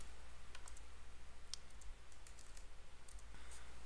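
A computer mouse clicks on a desk, scattered sharp light ticks at an irregular pace, close but faint over a steady low hum.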